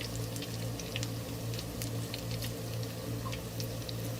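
Dahi bara lentil fritters deep fry in used oil, a steady, dense bubbling crackle with fine popping throughout, fairly quiet and continuous with no voices.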